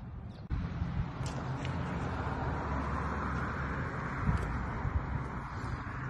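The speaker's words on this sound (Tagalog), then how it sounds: "Grabe, hangin talaga." Strong storm wind in southern Alberta, Canada, roars steadily, buffeting the microphone with a constant low rumble and no pause throughout.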